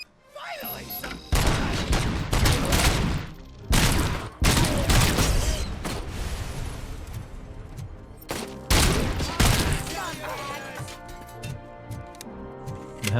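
Gunfire in the RoboCop demo video game comes as dense, loud volleys of rapid shots and booms. The bursts are broken by short gaps, and a voice talks over part of the shooting.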